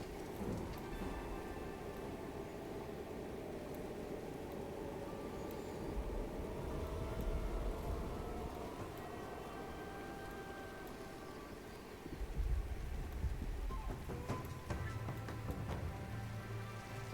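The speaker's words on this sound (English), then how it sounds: "Immediately just went thunderstorm." A thunderstorm in a survival video game sets in with steady, dense rain hissing throughout and deep rumbles of thunder swelling in the middle and again near the end, with no talk over it.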